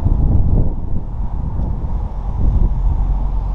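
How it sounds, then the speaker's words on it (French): Wind buffeting a microphone outdoors beside a motorcycle during an oil change, a loud continuous low rumble with gusty swells and no speech. "je pense que vous l'entendez le vent"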